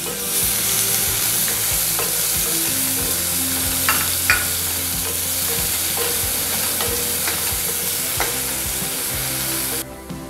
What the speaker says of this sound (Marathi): कांदा असं छान शिजवून घ्यायचा, भरपूर परतून